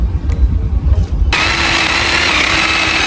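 A mini chainsaw starts up loud and steady partway through, buzzing continuously as it cuts into tree stumps after a short stretch of low rumbling.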